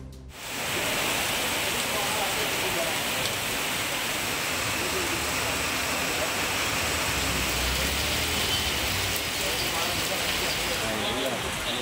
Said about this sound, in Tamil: கனமழை கொட்டி தீர்த்தது வாகன ஓட்டிகள் விளக்குகளை எரியவிட்டு செல்லும் நிலை ஏற்பட்டது